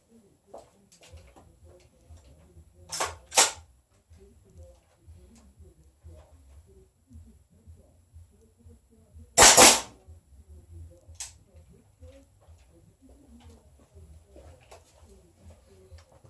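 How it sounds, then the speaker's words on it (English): A DPMS airsoft gas blowback rifle fires a few sharp, loud shots at scattered intervals, a close pair and then a single louder crack and another, with quiet room tone between. "we're going to go to the airsoft blowback gun on the left"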